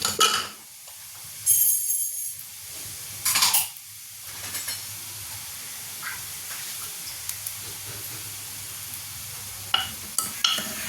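Grated coconut sautéing in a pressure cooker with raw mango pieces: a soft, steady sizzle runs throughout, broken by occasional scraping stirs and light metallic clinks of a spoon against the pot, with no talking.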